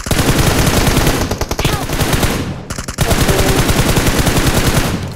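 Rapid automatic gunfire rattles through a BGMI battle, loud close bursts of sustained shots with a brief pause in the middle before the firing resumes.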